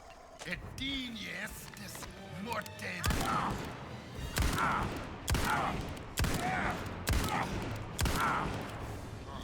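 Rapid gunfire from the Indiana Jones and the Great Circle video game, a series of sharp shots fired one after another over several seconds, loud and close, with game sounds and someone talking in between.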